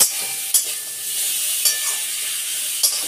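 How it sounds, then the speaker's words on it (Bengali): Fish curry ingredients with a pinch of sugar sautéed in a pan, a steady bright sizzle with a few sharp stirring scrapes, close and continuous with no talking. "এটা একটু ভালো করে কষে নেব 2-3 মিনিট"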